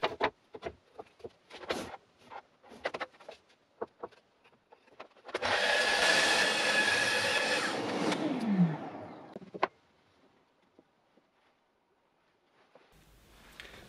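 Power saw cutting a bevel on a plywood birdbox spine: one loud whining cut of about four seconds whose pitch sags as the blade slows, preceded by scattered clicks and taps and followed by quiet.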